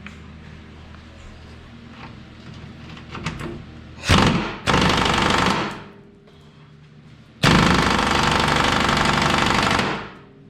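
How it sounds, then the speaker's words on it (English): An impact wrench hammers on a rusty bolt on a budget Isuzu overland build, with two loud rattling bursts of a few seconds each after some quieter handling noises, close and without talk. "And then I'll just put an impact wrench on it and see if I can get it to move."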